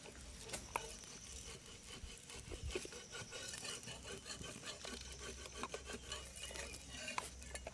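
A spatula scrapes and turns an egg dosa on a hot pan in a run of repeated rasping strokes and light taps over a low background rumble, with no voices.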